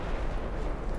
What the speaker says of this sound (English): There we go. Torpedo hit on the DD.